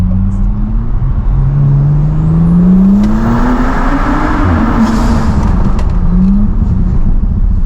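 Heard from inside, a tuned Audi S5 Sportback accelerates hard through a tunnel, its engine note rising loud and echoing in sweeping pitch climbs, easing back, then surging again.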